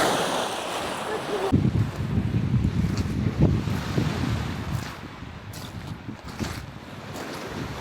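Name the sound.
wind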